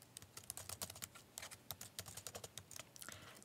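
Fingers type on a computer keyboard in a quick, uneven patter of soft key clicks, close by and fairly quiet, with no speech.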